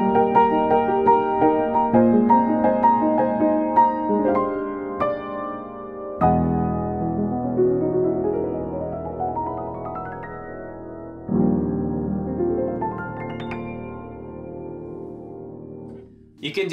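Solo piano closing phrase of a song, with descending notes and a rising run that settle onto a sustained major seventh chord, played close and moderately soft before a brief final sound at the end.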